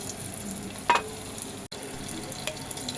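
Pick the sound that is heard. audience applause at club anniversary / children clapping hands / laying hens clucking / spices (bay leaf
spices (bay leaf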